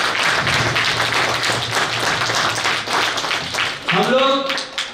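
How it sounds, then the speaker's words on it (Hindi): Audience applause at the 24th annual all-India neurotherapist convention in Jammu and Kashmir, a dense sustained burst of many hands clapping across the hall, with a voice speaking over it near the end. "ताली की गड़गड़ाहट थोड़ा जोर से हो,"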